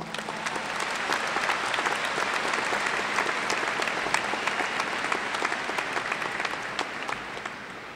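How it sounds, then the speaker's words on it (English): A large audience at a 2014 Springdale High School commencement ceremony applauds, sustained, dense clapping filling a big hall, steady for several seconds before gradually tapering off. "Can we recognize that with your applause?"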